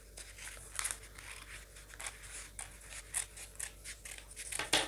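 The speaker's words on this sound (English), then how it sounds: "come out the cups for this bra pattern." Scissors snip through paper while cutting out a bra cup pattern, with a steady series of quiet, crisp cuts and rustles close by and no talking.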